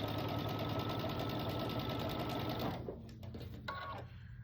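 A sewing machine runs steadily as it stitches quilt block pieces together for a pinwheel section, a dense continuous whir that stops near the end, leaving a few faint clicks and handling sounds.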